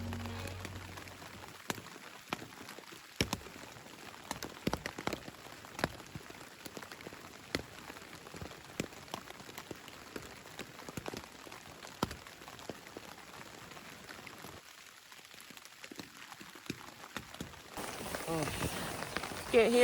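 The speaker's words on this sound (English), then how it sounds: "It's raining. Hard. Hard." Hard rain pattering steadily on a backpacking tent at night on Rabun Bald, a dense patter of drops with louder individual hits throughout and a brief murmur of voices near the end.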